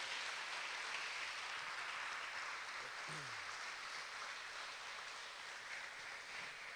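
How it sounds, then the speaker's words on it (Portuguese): A church congregation applauds steadily as a dense, continuous wash of clapping that fills the whole stretch at even loudness, with a brief voice showing through near the middle. "Você pode aplaudir o Senhor?"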